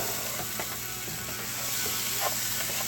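A can of black beans opened with a hand can opener, giving a run of close, rapid ratcheting clicks as the gear turns around the rim over a faint background hum.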